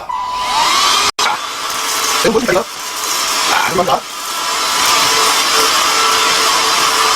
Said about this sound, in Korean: 청소기 흡입을 위해서 뭐 이렇게 쌀을 올려놨는데 요걸 한번 이 친구를 통해서 한번 흡입을 내고 있습니다